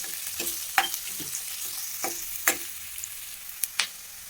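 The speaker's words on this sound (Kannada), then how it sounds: "ಈಗ ಚೆನ್ನಾಗಿ ಇದನ್ನ ಈ ರೀತಿ ಫ್ರೈ ಮಾಡ್ಕೊಳ್ಳೋಣ" Sprouted beans fried and stirred in a pan at home, giving a soft steady sizzle broken by several sharp scrapes and knocks of a spoon against the pan, close by with no talking.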